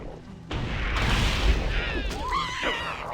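Grenade explosion in Halo: CE Anniversary, a deep booming blast with rumbling debris, followed by shrill creature cries and game noise.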